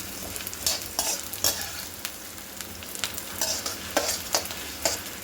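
Edible gum (dink) frying in oil, a steady sizzle broken by repeated rhythmic scraping and stirring strokes about once a second, close and fairly quiet, with no voices.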